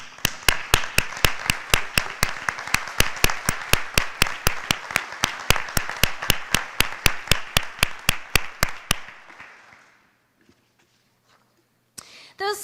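Audience at a college honors convocation clapping in slow, steady unison for about nine seconds, each loud clap crisp and evenly spaced, then fading to near silence with a brief stir at the end.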